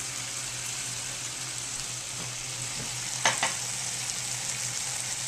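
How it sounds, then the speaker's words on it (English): Fajita sauce stirring in a hot pan, a steady sizzle throughout with a brief louder scrape of the utensil midway, fairly close and with no talking. "Now we're going to stir this all together to make it nice and thick."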